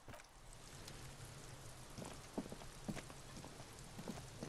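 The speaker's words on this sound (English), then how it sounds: "It's raining." Steady rain falls in the video game Disco Elysium, a quiet, even patter on surfaces with a few sharper drops standing out, heard alone without talk.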